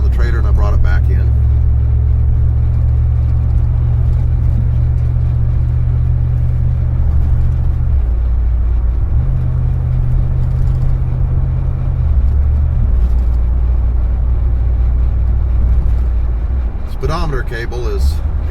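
A Chrysler New Yorker car engine idles steadily as it warms up, a loud, continuous low rumble that shifts slightly in pitch partway through, with brief voices near the start and end.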